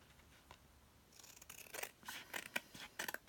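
Scissors trimming cardstock for a handmade mini vintage-style photo album: a run of quiet, crisp snips and cuts, several in quick succession, close and alone.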